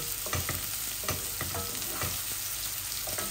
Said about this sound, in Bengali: আমি এক টুকরা আদা রসুনও দিয়ে দিচ্ছি সাথে।